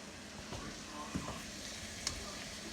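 Ground beef and sausage sizzle with onions in a pan, a soft steady frying hiss with occasional light scrapes and clicks of a utensil, fairly quiet and close.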